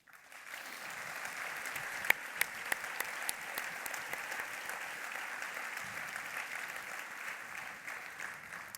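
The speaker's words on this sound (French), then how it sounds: "que nous les applaudissions." Audience applause at a civic welcome ceremony in Gujan-Mestras: steady, dense clapping from a sizeable crowd, moderately distant and even in level, with a few sharper claps standing out near the start.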